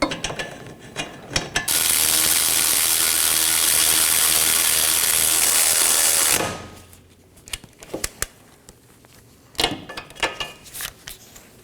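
An 18 mm bolt on the rear brakes of a 2018-2024 Chevrolet Equinox is run down with a ratchet, a loud continuous mechanical whir of about five seconds framed by a few sharp clicks and clanks.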